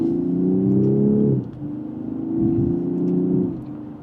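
A 2027 BMW 540i xDrive with its B58 engine accelerating in sport mode from second gear: a smooth, moderate engine drone that rises in pitch, dips at a gear change, climbs again and then eases off, with no talking.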